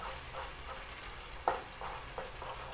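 Matoke (green bananas) mixed with peanut butter in a pan, with a soft sizzle under slow stirring and a few faint scrapes and taps of the utensil.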